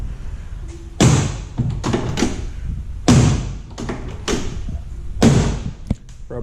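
Door of a 1963-1967 Corvette swung on its hinge after rivet repair, giving three heavy metallic thumps with rattling clunks between, close and alone.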